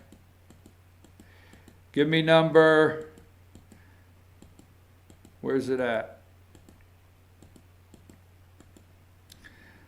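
Computer keyboard typing, a steady stream of faint, close clicks running under a steady low hum, broken by two short bursts of someone talking.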